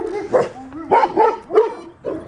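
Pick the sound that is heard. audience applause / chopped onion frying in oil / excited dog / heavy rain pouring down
excited dog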